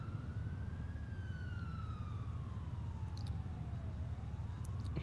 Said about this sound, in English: the ambulance just went by me